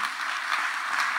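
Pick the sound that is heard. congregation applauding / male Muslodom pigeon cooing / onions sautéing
congregation applauding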